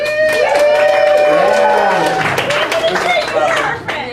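A comedy club audience breaks into applause and scattered cheers, clapping swelling then thinning out, mixed with voices talking over it.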